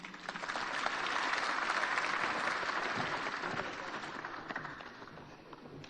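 An audience in the Kasarani auditorium applauds at a Kenya Kwanza political manifesto launch. Loud, sustained clapping from many hands swells quickly, holds steady, and then slowly tapers off, with no talk over it.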